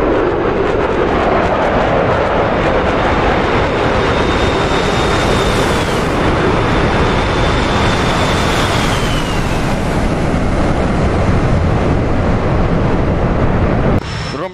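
A jet aircraft taking off in the DCS World flight game, a loud, continuous engine roar with a rising whine that climbs and shifts pitch before cutting off abruptly at the end.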